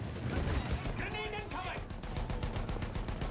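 Rapid bursts of gunfire and booming cannon shots from Battlefield 1, dense and continuous, with a voice talking over them.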